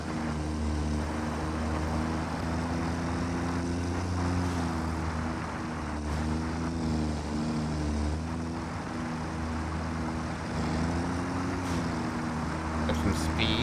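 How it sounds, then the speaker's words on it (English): A tractor in the Satisfactory video game drives along with a steady, droning engine rumble carrying harmonic bands that rise and fall slightly with speed, loud and continuous throughout with no talk over it. "We're gonna hang out on top of our tractor and ride it back to base."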